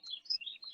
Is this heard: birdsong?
yes